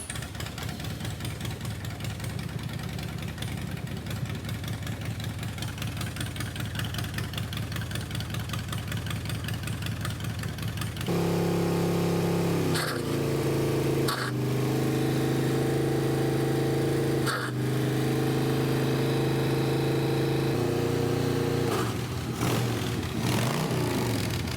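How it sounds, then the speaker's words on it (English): A Harley-Davidson motorcycle whirs and then fires up, settling into a loud, close, lumpy idle with a few blips of revving. "Let's start it up"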